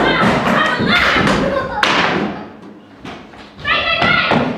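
Loud knocking on a door during a school stage production, a series of sharp thuds heard close, with actors' voices speaking around them.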